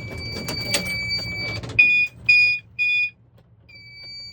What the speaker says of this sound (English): There's a reason why this zone has a pre-alarm on it.